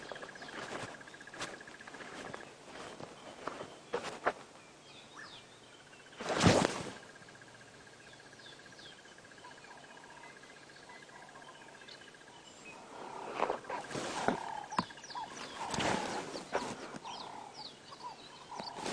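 Scattered birdsong and chirps ring out across a quiet sunrise on a wildlife safari drive, with occasional louder bursts and a steady faint hum underneath.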